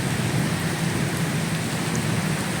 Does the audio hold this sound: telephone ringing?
no